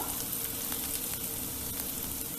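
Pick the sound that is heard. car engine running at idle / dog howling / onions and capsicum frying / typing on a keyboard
onions and capsicum frying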